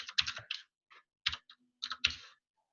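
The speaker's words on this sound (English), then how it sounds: "So we can test this by just typing in" Rapid bursts of typing on a computer keyboard, clustered key clicks with short pauses between groups, close and clear with no talking.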